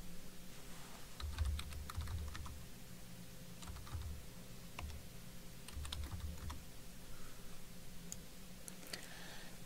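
Typing on a computer keyboard while entering expense values into a spreadsheet, heard as irregular bursts of soft close clicks and key taps over a steady low hum, with no voices.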